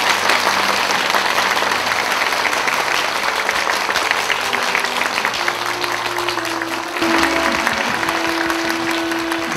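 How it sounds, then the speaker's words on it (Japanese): Sustained, loud applause from a press-event audience honoring stage performers, a thick continuous wash of clapping with a faint steady tone beneath. "舞台上の出演者の皆さんもう一度大きな拍手をお願いいたします"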